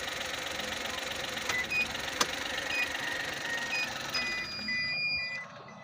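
A Suzuki DA64 engine with a faulty fan motor idles with a thin mechanical hum and intermittent high beeps, then cuts off near the end, leaving sudden quiet.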